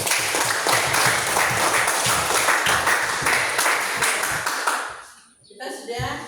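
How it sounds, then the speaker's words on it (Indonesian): Applause fills a classroom as a group of students claps steadily and loudly for several seconds, the clapping thinning out toward the end while voices begin to talk. "Oke, aplaus dulu."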